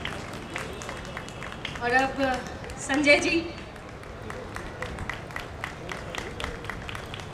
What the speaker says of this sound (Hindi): एक बार जोरदार ताली बजना चाहिए हर्ष नंदन जी के लिए